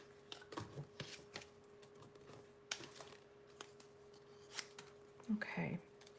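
Scissors snip around a stamped paper scrap in a series of short, close, crisp cuts with pauses between them, while a person talks quietly in the background.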